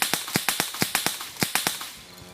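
A silenced gun fires automatically in a rapid, evenly spaced burst of about a dozen sharp cracks, loud and near, trailing off at the end with no speech.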